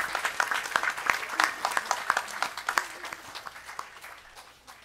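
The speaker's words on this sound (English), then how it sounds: "Give him a round of applause." Sustained applause from a crowd at a gurukula event, dense steady clapping that gradually fades toward the end.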